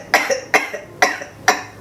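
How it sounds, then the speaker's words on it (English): Four sharp coughs during a vagus nerve exam at fairly even intervals, loud and close, with brief silences between each burst. "I am going to ask you to cough for me."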